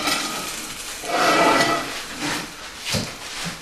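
Metal tray of onions sliding back across the floor of a wood-fired oven, a scraping rasp with a clank of the pan, close and moderately loud, with a softer knock toward the end and no talk.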